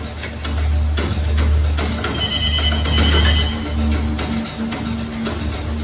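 A telephone rings with a repeated electronic ringing tone, loud and steady throughout, over a low background hum and no speech.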